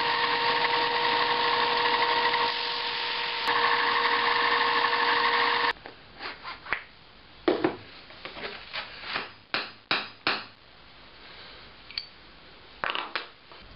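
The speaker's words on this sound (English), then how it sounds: "I'm going to use the belt sander to sand these corners down" Belt sander grinding the corners of wooden clamp handles, a steady loud whine for about six seconds, then stopping, followed by a series of short knocks and scrapes of handling wood.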